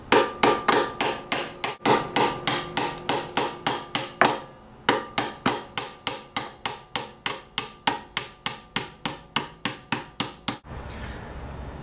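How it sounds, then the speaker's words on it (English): Old frets being pried and pulled from the neck of a 1962 Fender Stratocaster, a steady run of about thirty sharp, close tapping knocks at a quick regular pace, with a short pause midway and a brief rustle at the end. "you still may get some chips as you pull the fret out"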